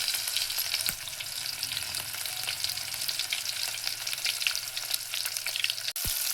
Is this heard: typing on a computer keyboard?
no